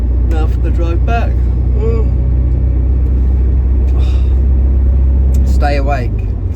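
A lorry engine rumbles while driving, a loud steady low drone that runs unbroken throughout, with brief voices talking over it now and then.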